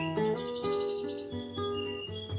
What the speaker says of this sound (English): my chirping bird sounds so beautifully, so melodiously, so therapeutically, so soothingly.